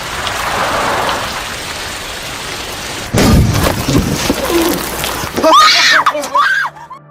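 Heavy rain in a film scene, a dense steady hiss for the first few seconds, then broken by loud impacts and rumbling, followed by a scream and a horse-like whinny over the downpour.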